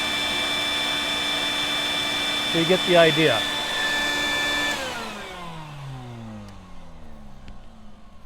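A vacuum cleaner with micro tool attachments drones steadily and loudly while cleaning a Baby Lock drop-in bobbin sewing machine, its whine shifting briefly mid-way, then winding down with falling pitch; a voice speaks briefly over it.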